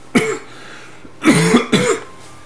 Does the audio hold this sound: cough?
yes